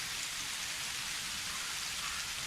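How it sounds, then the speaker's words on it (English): Steady rain in the Without a Dawn video game, a dense, even hiss of drops pattering on surfaces, continuous and moderately quiet, with no thunder or voices. "I love the rain though."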